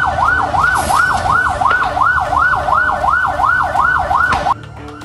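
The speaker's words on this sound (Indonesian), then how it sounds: "Sejumlah mobil damkar terlihat memadamkan api yang membumbung tinggi." Fire truck siren wailing in a fast, steady up-and-down cycle, loud and close, at a burning coffee shop in Melawai, South Jakarta, cutting off abruptly near the end.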